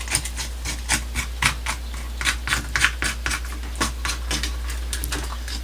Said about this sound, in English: scrape it with the edge of the spoon, and it almost becomes like a little fish paste